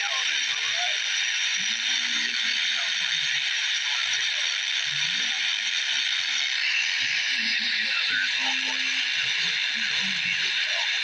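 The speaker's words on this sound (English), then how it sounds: "A little bit of white noise there." Steady hiss of static from a Quansheng UV-K6 handheld radio tuned to the 10 m band, a constant faint wash with a few soft clicks and handling noises beneath it.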